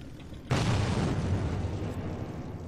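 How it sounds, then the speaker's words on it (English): A deep, booming explosion in the video game Metro 2033 bursts suddenly and loudly, then rolls on as a dense, rumbling decay that fades gradually over the next two seconds. "if my bullet didn't kill him, the explosion surely did"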